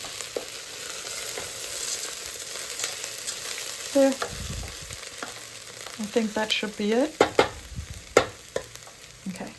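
Lentils fry quietly in a pot for lentil soup with a soft steady sizzle, while a spoon scrapes and stirs in short bursts toward the end. Someone speaks briefly.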